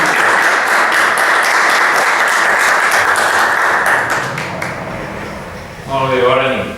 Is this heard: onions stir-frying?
no